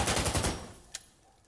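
A rapid burst of automatic gunfire from the Sandstorm shooter game rattles loudly for about half a second, then fades into quieter ambience punctuated by one sharp single shot.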